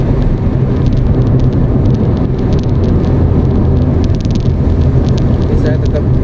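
Car cruising at 80 km/h in the middle lane of a Jakarta toll road, probably on older tyres, with a steady loud road and engine roar that fills the clip.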